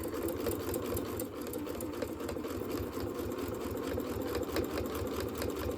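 Sewing machine stitching fabric for a mini Kleenex holder, a steady continuous mechanical whir with rapid needle patter, close and fairly quiet, running throughout without talk.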